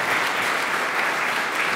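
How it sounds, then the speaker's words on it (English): Audience at a PyCon UK 2019 lightning talks session applauds the new speakers, a dense, steady wash of many hands clapping close and loud for the whole stretch, with no talk over it. "Can I give them a quick round of applause right away?"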